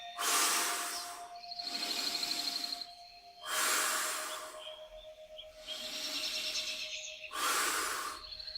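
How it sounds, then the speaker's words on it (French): Slow, deep breaths, each long inhale followed by a strong, airy exhale, repeated several times in an even rhythm, close and clear over a faint steady tone; no words spoken. "On inspire et on souffle très fort."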